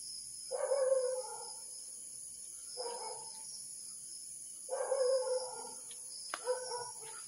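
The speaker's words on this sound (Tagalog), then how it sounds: "Umu-umu lang aso." A dog howls at night in the grounds of a school, three drawn-out mournful howls separated by pauses, moderately distant over a steady high insect drone, with no talking.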